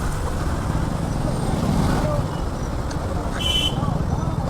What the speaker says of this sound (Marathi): लोणी काळभोर उरुळी ट्रॅफिकच ट्रॅफिक आहे